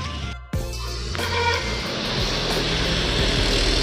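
A loud rumble of passing vehicles, engines and tyres sweeping by close at hand, then a continuous roar of traffic noise.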